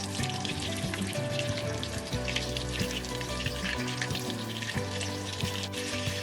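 Scotch eggs frying in a small pan of oil, turned now and then, giving a dense, continuous close-up sizzle with crackles over a low steady hum, with no talking.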